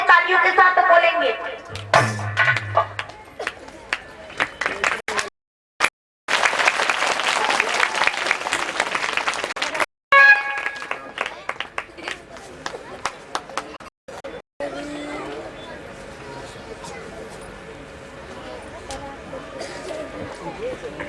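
A kirtan audience claps rhythmically along with devotional chanting during a Bhagwat katha gathering, steady hand claps mixed with singing and voices, with brief pauses before the sound settles into quieter murmuring talk.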